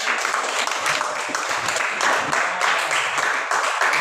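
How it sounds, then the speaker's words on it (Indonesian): Classroom applause for a group presentation at a religious college, steady group clapping throughout with no talk over it. "tepuk tangan dulu ya"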